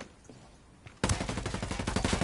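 Heavy automatic gunfire from the tactical shooter Ghost Recon Wildlands erupts after a second of quiet ambience, a loud, dense run of rapid shots continuing to the end.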